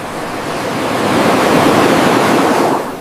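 Surf rolls in at Pantai Batu Hiu beach, a loud, close wash of breaking water that swells to a peak and then eases, with wind buffeting the microphone.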